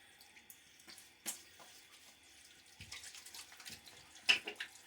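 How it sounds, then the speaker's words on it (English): Faint water splashes and drips with a few soft wet taps during a wet shave, quiet and close, growing slightly busier toward the end. "little splash of water."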